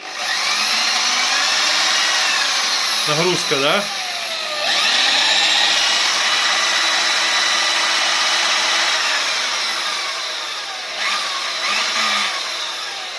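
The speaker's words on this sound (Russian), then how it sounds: "Дрель вот сейчас запускать буду." A 900-watt electric drill powered through a solar inverter whines steadily and loudly close by, with a brief pause and spin-ups in speed, while someone speaks briefly over it.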